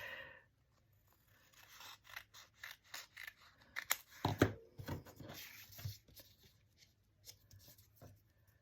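Scissors snip through paper for a mixed media craft project, a run of irregular crisp cuts with rustling and scraping between them, one louder crunch in the middle, close and fairly quiet with no talking.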